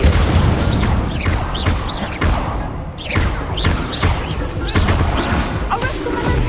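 Incendio fire spell in Hogwarts Legacy on PS5, part of a combat flurry: repeated loud whooshing fiery blasts and thumping impacts about every half second, close and dense, with game combat noise throughout.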